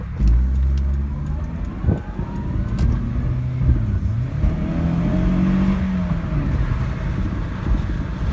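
A 2002 Honda CR-V with a 2.4L VTEC four-cylinder engine and 200,000 miles accelerates hard to high RPM, its rising engine note sweeping upward in steady pitch climbs, loud and close, with no talking.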